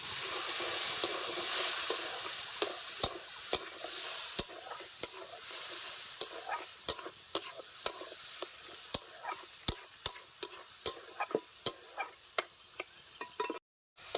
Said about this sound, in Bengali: একটু জল দিয়ে মশলাটাকে আমি ভালো করে কষিয়ে নেবো